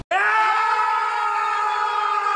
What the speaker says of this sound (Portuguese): Agora eu vou dar o grito de vitória.